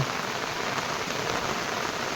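Dense, steady hiss of heavy rain pouring down on surfaces, close and continuous with no other sounds.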